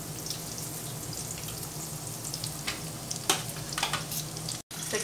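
Tomato and moong dal bhajiye fry in shallow oil in a kadhai, giving a steady, close sizzle with bubbling and occasional stirring clinks, and a brief drop near the end.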